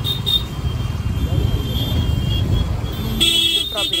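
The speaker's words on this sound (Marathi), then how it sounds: "खूप ट्रॉफिक आहे." Dense road traffic rumbles steadily nearby on the old Mumbai–Goa highway, with a car horn honking sharply near the end.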